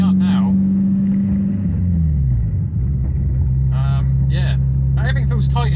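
A Renault Clio RS 172 hot hatch reverses and parks, its engine idling with a steady low rumble that drops in pitch as revs settle, while someone talks over it throughout.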